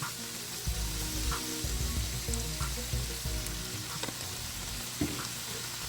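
Lime juice and Worcestershire sauce sizzle in a pan alongside steak, a steady bubbling hiss broken by a few clinks and scrapes of stirring, with no one talking.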